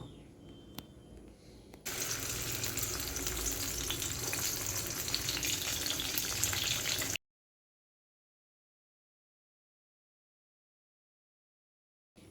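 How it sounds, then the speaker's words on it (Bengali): Hilsa fish fry in hot oil with a loud, steady sizzle lasting about five seconds after a quieter start, then the sound cuts off into silence. "মাছগুলোকে আমি প্রথমে ভেজে নেব"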